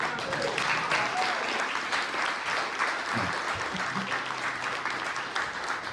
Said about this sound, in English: I just want to give her a round of applause for being her.